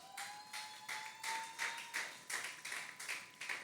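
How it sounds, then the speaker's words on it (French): Church congregation at a worship service clapping in a steady rhythmic beat, about ten evenly spaced claps, moderately close, with a faint sustained tone underneath. "On acclame pour le Seigneur."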